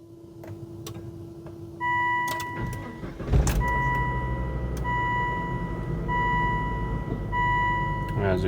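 A Volvo XC70's ignition is switched on after the gauge cluster is refitted: a click, then a low hum from the dash with repeated electronic warning chimes ringing at regular intervals, close and clear.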